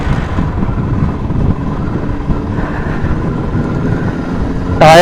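Kawasaki Ninja 1000 and Benelli Imperiale 400 motorcycles riding together on a road, with a steady engine drone and wind rush throughout and a brief sharper burst near the end.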